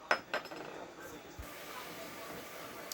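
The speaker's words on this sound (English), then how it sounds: "I'm going to just stir all this up." A spoon clinks and scrapes around a bowl while stirring molasses and brown sugar, two quick taps at the start followed by quieter swirling, faint and close.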